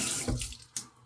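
Water runs from a tap while shave soap is lathered, giving a soft gush followed by a couple of brief splashy spurts, faint and close, with no talking.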